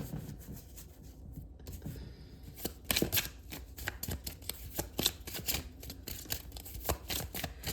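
Advice cards for a tarot-style reading are shuffled by hand, giving close, crisp riffling and flapping that comes in repeated quick bursts of slaps, with no talking.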